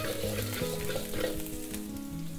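Chopped garlic and ginger frying in a little oil in a pan over high heat for a chilli chicken dish, a steady close sizzle with faint stirring scrapes, no talking.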